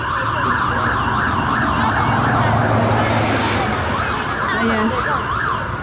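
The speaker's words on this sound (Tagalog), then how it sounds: "Ambulance." An ambulance siren wails loudly and steadily on a city street, its rising and falling tone sweeping across the whole stretch over constant traffic rumble, with a brief voice speaking near the end.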